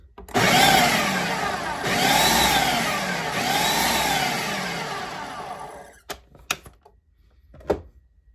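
A food processor blitzing mealy pie crust dough made with fresh-milled flour, several loud whirring pulses of motor and blade noise, each a couple of seconds long, then stopping for a few short clattering knocks.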